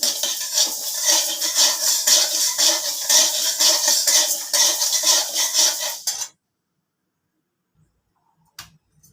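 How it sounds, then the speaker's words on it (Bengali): Mung dal dry-roasting in a pan gives a dense, hissing, crackling rustle with rhythmic scraping for about six seconds, then stops abruptly into near silence broken by one faint knock. "মুগ ডালটা আমি ভাজা শুরু করে দিয়েছি।"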